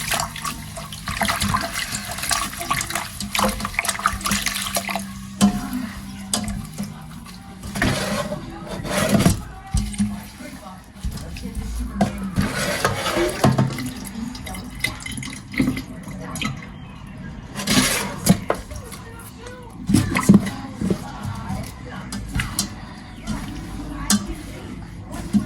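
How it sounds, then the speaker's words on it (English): Tap water runs over rose petals in a bowl, a steady splashing and trickling wash with brief bumps and clatters, close by and fairly loud for most of the stretch. "I'm just going to run water through it, then rinse it nicely just once"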